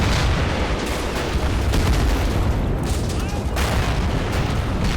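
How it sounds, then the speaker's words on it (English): Artillery explosions from a 1944 Eastern Front battle in the video game Men of War Assault Squad 2 form a dense, continuous rumble of booms and blasts. The heavy low roar never lets up for the whole stretch. "There's the reserve artillery getting destroyed."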